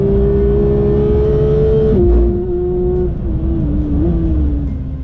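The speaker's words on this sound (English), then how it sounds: "This GT3 shines in linking the corners, climbing the hill towards roller coaster, gaining a lead over the stock GT3 it never gives back." A Manthey Racing GT3 sports car lapping a race track on a hill climb: a loud, sustained engine drone near the microphone, with a gear change and the pitch dipping and shifting as the car links corners.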